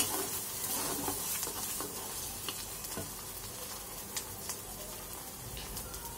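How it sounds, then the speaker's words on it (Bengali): Chepa shutki, dried fish, fries in a pan with a steady close sizzle, punctuated by repeated scraping and clicking strokes as it is stirred. "ভাজা করে ফেললাম, আরো ভাজা করবো"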